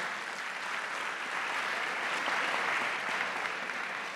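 Audience applause after a regional dialogue on higher education in Quibdó, steady dense clapping holding at an even level throughout, no voices.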